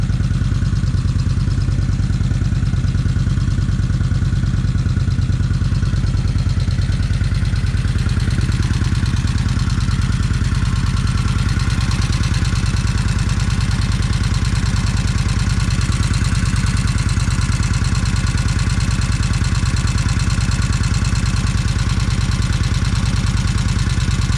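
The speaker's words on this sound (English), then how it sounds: "let it sit here and see if the motor sound is quieting down some" Kawasaki Vulcan 1600 motorcycle engine idling steadily after being revived with a new battery, a loud, continuous low rumble with a smooth, even rhythm throughout, no voices.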